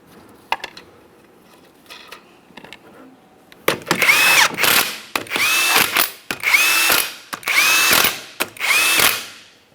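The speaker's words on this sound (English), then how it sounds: "We're starting on all 5 of our 19mm lug nuts." An impact tool runs on the 19mm lug nuts of a Jeep Patriot wheel in five loud, close bursts of rattling whir. Each burst lasts about a second, with short pauses between them, after some quieter clicks and handling.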